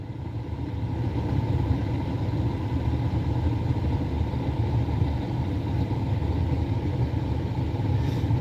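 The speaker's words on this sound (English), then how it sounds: "Let me know if that air too loud in the background." A steady, broadband mechanical hum drones on without a break, like an air conditioner running nearby, with no voices over it.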